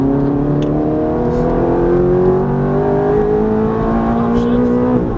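A Ferrari F430 F1 accelerating at full throttle on a race track, heard as a loud, close, sustained engine whine that climbs steadily in pitch through one gear.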